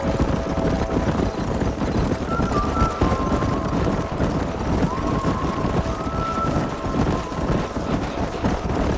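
Horse hooves clip-clop at a running pace in the Red Dead Redemption video game, a busy rhythmic patter mixed with wind noise and a continuous low rumble, with faint tonal sounds drifting in.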